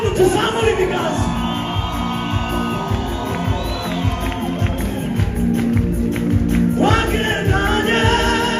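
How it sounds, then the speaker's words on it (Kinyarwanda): A worship congregation raises loud ululation and shouts of praise to God, a sustained, dense crowd sound with trilling voices rising again near the end. "Twongera tuvugirize Imana impundu,"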